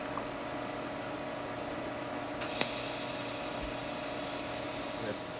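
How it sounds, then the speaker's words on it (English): A gas torch welding a seam on a Chevy C10 header in a garage gives a steady, close hiss throughout, with a sharp brief pop partway through and a faint tick near the end. "So I welded the first seam"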